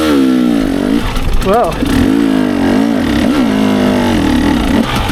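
A hard enduro dirt bike's engine revs and holds steady close by. Its loud, rising and falling drone runs through the whole stretch, with a rider's brief exclamation over it.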